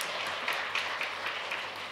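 Church congregation at a Korean Sunday service in Jakarta, applauding with scattered, fairly faint clapping that pulses in a loose rhythm for a couple of seconds.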